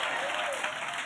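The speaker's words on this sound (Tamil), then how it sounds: "கைத்தட்டி வரவேற்று கர்த்தருக்கு நன்றி சொல்வீர்களாக" A congregation at a church service claps with dense, steady applause that fills the whole short moment at full loudness.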